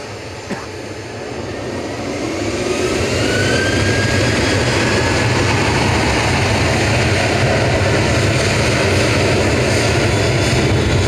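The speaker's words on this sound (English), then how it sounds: "Ryanair lining up behind the departing TUI" A TUI airliner departing Manchester Airport, jet engines swelling from a quieter start into a loud, sustained roar as it powers up and climbs away, with no talk over it.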